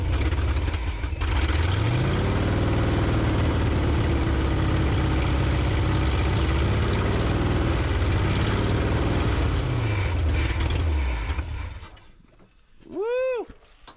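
A rough, loud 1978 Chevy engine with a leaky exhaust idles steadily with a throaty rumble and occasional rises in revs, then cuts off abruptly, leaving a brief whine before silence.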